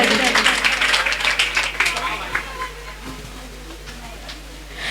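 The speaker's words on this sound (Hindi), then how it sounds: "इनके लिए एक बार फिर से जोरदार तालियां बजा दीजिए।" Audience at a children's day annual celebration applauding after a song: a burst of crowd clapping that gradually thins and fades, with a voice talking over it.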